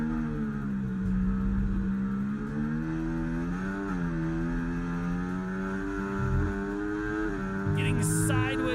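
Race car engines in a racing video game roar steadily in a dense layered drone, their pitch sliding and dipping as the throttle lifts on the way into turn 1 of a wet United Kingdom round, with a brief bright burst near the end.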